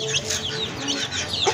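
Chickens and chicks cluck and peep busily at feeding time, a cluster of close, overlapping chirps and clucks over a faint background.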